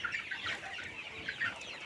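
Month-old farm chickens clucking in a poultry shed, several birds giving short overlapping clucks and soft calls throughout, fairly close and without talk.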